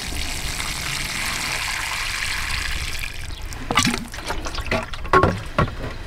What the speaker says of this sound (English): I'm just going to pop some water in